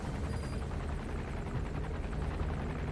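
Helicopter circling overhead in Metal Gear Solid V, a steady, continuous rotor drone with dense low thumping, loud and unbroken throughout, no talking.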